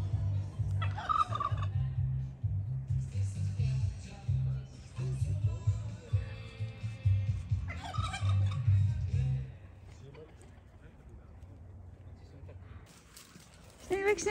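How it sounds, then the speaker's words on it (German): A turkey gobbles repeatedly in loud, rattling bursts outdoors at a van stop in Italy, with people talking over and between the calls before the gobbling fades out. "Hast du gesehen die Pute"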